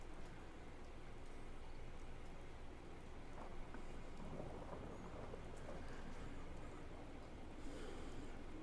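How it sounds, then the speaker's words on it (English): Steady rain falls in the Fallout 4 video game world at night, a faint continuous wash of patter with a soft distant rumble of thunder underneath. "It's a good night to walk in the rain"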